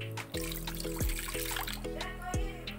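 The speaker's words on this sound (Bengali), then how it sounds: "কড়াতে আমি জল দিয়ে দিলাম" Water pours into a wok for sugar syrup, a steady trickling splash running for a few seconds close by with a few dull knocks, no voices.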